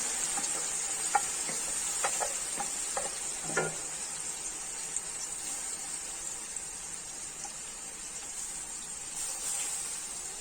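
Afghani chicken gravy fries in a pan with a steady, even sizzling hiss, and a few light clicks and scrapes of stirring early on, without any talk.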